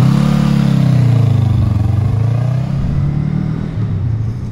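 A 2020 Honda CMX 500 Rebel S twin-cylinder motorcycle pulls away loud and close, its throbbing engine note rising and falling smoothly as it rides.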